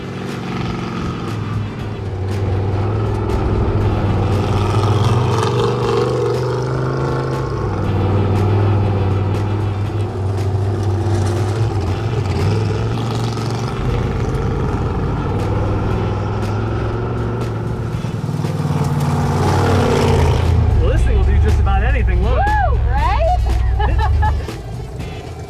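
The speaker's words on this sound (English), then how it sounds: "I'll just let you enjoy the sound of that uncorked V8 sending me all over the dang place." An uncorked V8 in a 2021 Ford Race Bronco growls loudly and continuously off-road, its engine note rising and falling with throttle, surging toward the end before easing off.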